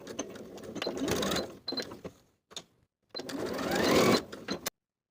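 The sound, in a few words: sewing machine stitching plaid wool jacket peak seam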